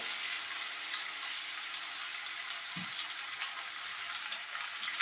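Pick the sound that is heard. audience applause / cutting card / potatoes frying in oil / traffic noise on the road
potatoes frying in oil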